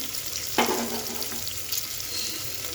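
Chopped onion dropped into hot oil in a pan for lemon rice, giving a sharp burst of sizzling followed by a steady, close frying crackle throughout.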